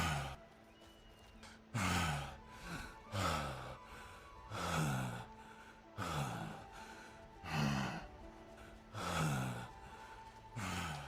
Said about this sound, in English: I don't know if I'm a big fan of the heavy breathing.